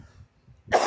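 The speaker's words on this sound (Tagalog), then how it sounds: "Inuubo tayo. Pasensya na." A single sharp cough near the end follows a brief quiet moment with faint low murmuring.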